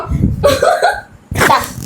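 A person burps twice, each a short, loud, raspy belch close to the microphone, separated by a brief pause.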